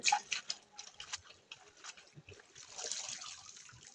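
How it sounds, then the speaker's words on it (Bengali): Leafy greens being washed by hand in water, with faint, irregular splashes, trickles and soft clicks close by at low volume. "শাকটা আমি খুব ভালোভাবে ধুয়ে নেব এখন"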